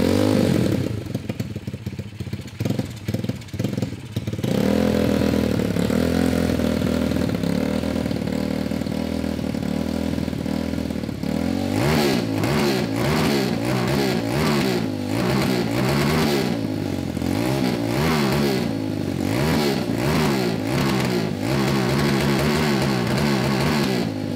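A homemade go-kart engine sputters and pops unevenly at first, then settles into a loud, continuous close-up run with rising and falling revs and rattling clatter throughout, with no talk.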